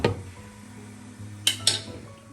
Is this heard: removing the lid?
yes